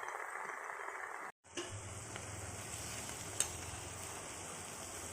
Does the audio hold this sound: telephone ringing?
no